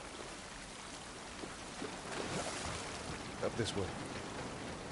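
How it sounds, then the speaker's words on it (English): Steady rain falls in the outskirts setting of the video game The Last of Us Part I, a constant soft hiss throughout with a few slightly louder splashy moments, while a voice speaks briefly. "This rain ain't gonna do us any good."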